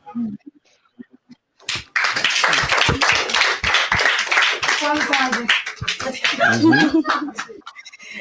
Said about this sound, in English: Clap for Team UDP.